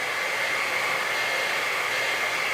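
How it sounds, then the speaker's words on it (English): A hair dryer blows steadily up close to dry freshly finger-painted hands, a constant, even whooshing roar with no talk. "Now we're going to take the hairdryer."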